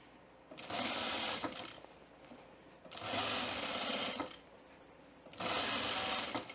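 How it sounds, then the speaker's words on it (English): A sewing machine runs in three steady bursts of about a second and a half each, separated by short pauses, while stitching a line of stitches along a button-up shirt, close and fairly quiet. "It's almost like you're just sewing a little line of stitches next to it"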